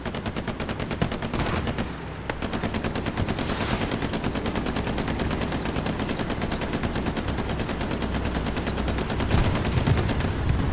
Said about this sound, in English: Oh, that came in from an AT gun placement.